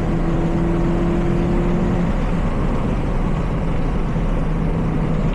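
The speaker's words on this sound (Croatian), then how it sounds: "Auto se inače jako lijepo čuje." A Citroën C2 VTS race car with a 125-horsepower engine drones steadily while driving, loud and close with a constant whirring roar and a low tone that holds briefly before fading into road noise.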